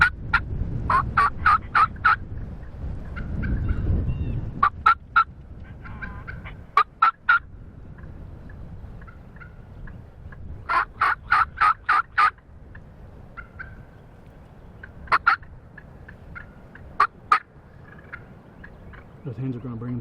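Wild turkeys gobble in a field on a windy opening day of turkey season. Several sharp rattling gobbles come in bursts from a moderate distance over gusty wind noise, with a faint voice near the end.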